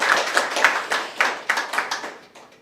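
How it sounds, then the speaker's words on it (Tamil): Roughly ten separate hand claps, sharp and moderately close, come in an uneven rhythm and fade a little toward the end, with no talking over them. "ஒரு கைத்தட்டல் கொடுக்கலாமே"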